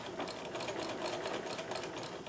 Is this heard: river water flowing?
no